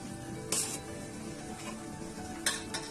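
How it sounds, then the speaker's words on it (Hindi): Spices being stirred into oil for traditional mango pickle, a soft steady scraping and sizzle-like rustle with a couple of brief clinks of a utensil against the container, close and quiet. "इसे अच्छी तरह से तेल में मिक्स कीजिए"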